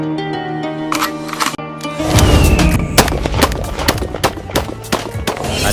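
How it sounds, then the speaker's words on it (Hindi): An M2068 full automatic gun fires a rapid string of sharp, loud cracks, coming in after about two seconds of sustained tonal sound and running to the end. "M2068 फुल ऑटोमेटिक और स्मूथ गन है।"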